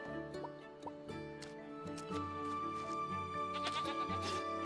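Goats bleating in the farming video game Luma Island, several short wavering cries in a row over steady background music, fairly close and clear.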